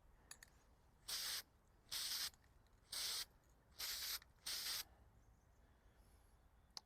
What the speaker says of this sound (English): you want to spray it lightly, and that should give it enough grit